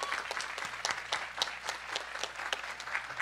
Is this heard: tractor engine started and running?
no